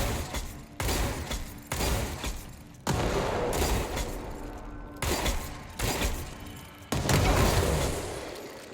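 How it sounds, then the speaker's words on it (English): Heavy, booming blasts from adhesive grenades fired and detonated in the video game Control, several loud explosions in quick succession with rumbling tails and crashing debris, no voices. "fire a single adhesive grenade and then press it again to detonate"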